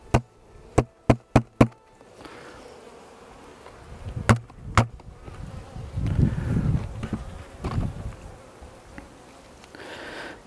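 Honeybees buzzing around an apiary hive during an August inspection, a low droning hum rising in the second half, preceded by several sharp knocks and taps on the hive woodwork.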